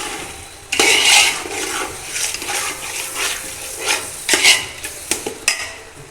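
A green chili pickle is stirred in a pot with a utensil, giving intermittent scraping and sloshing strokes, some louder bursts and softer gaps, heard close with a faint background hiss.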